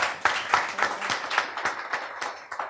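Studio audience on a music talk show claps in a fast, even rhythm, a short burst of close, dry handclaps with no voices.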